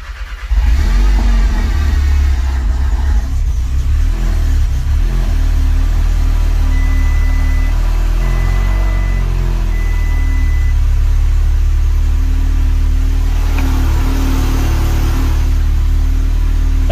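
A Volkswagen Golf 7R engine starts up and settles into a steady, loud idle close by, with a low continuous rumble and a faint whine running through it; no one speaks.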